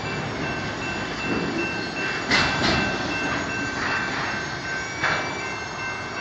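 A freight train rolls past close by with loud continuous rumbling, clanking cars and a thin high wheel squeal, with a few louder bursts of rattling along the way.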